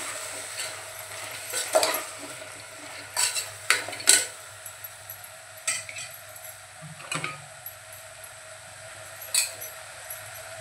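Vegetables for a Malvani-style chawli, potato and brinjal bhaji, with a green paste of coriander, ginger and garlic, stirred in a pan: sharp spatula scrapes and clinks come in irregular bursts over a quiet background sizzle, with no speech.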